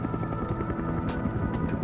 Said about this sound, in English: Rotor noise, which can warn an enemy of a helicopter's approach